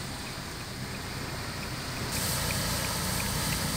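Strong wind roars during a dust storm over a city in Minas Gerais, a constant loud rushing that swells even stronger partway through, with no voices.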